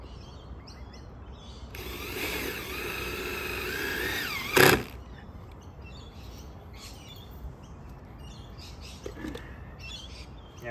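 A power drill drives a screw to fix a bracket onto a PVC privacy fence post, giving one steady, close whirring run of a few seconds that ends with a sharp burst, then quiet outdoor background with birds chirping.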